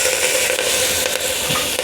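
Mustard seeds, dal and curry leaves splutter in hot oil as a loud, dense, steady crackling sizzle up close, continuous for about two seconds, with no talking.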